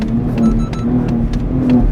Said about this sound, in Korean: 딸깍딸깍 소리는 제가 가속 페달을 밟는 거예요